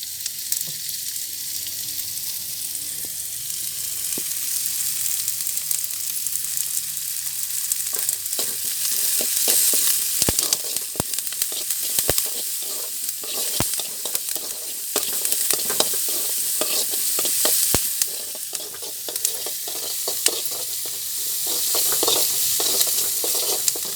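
Onions sautéing with fresh curry leaves and salt in a pan for a mushroom fry, a steady close sizzle with scattered clicks of stirring running throughout and no talking.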